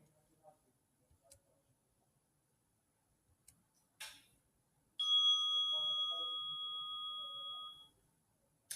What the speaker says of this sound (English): I'll ring the bell again